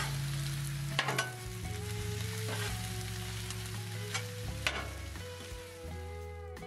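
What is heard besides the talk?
cabbage frying in olive oil on Blackstone griddle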